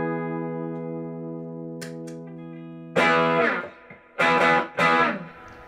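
An electric guitar through a Vexx Audio Bluebear overdrive pedal with mild crunch: a sustained chord rings out, then several loud strummed chords with brief gaps between them.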